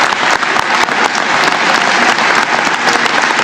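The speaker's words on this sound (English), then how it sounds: "She's clapping for herself." Steady applause from a single person clapping in the House chamber during a Speaker election session, continuous and fairly loud throughout, with no speech over it.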